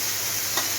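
Spice paste hitting hot oil in a pan, a loud, close, continuous sizzle with a brief scrape of stirring partway through.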